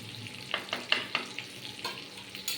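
Chicken leg pieces fry in hot oil, sizzling faintly with a string of sharp spatters and pops at irregular intervals, close by and with no talking.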